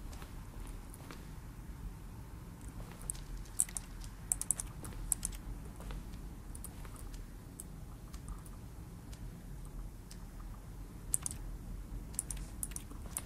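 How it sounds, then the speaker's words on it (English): Rapid, irregular clatter of computer keyboard keys being mashed during play of the video game The Stanley Parable, a steady run of close, sharp clicks with louder bursts scattered throughout and no speech. "Smashing keys."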